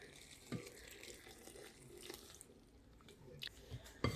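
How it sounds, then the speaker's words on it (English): Boiling water poured into a bowl of redbud flowers for jelly, a soft running splash of liquid with a few brief louder sloshes and drips, fairly quiet with no talking. "And I'm going to add about 4 cups of water. Boiling water."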